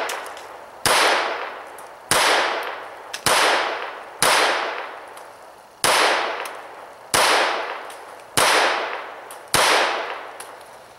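Seven sharp, loud gunshots from a Browning Buck Mark .22 pistol fitted with a heavier Tactical Solutions barrel, fired at an even pace about one to one and a half seconds apart, each with a short decaying echo.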